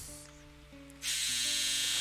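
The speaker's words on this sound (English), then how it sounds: "there goes the buzzer on the dryer" A clothes dryer's buzzer goes off in a home, a harsh steady buzz that starts about halfway through and holds to the end over low sustained tones.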